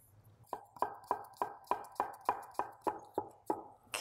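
A knife chopping a skin-on apple finely on a board for a kale salad, about a dozen crisp, evenly spaced chops in a steady rhythm, quiet and close.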